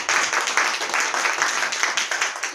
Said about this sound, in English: So let's give Molly a round of applause.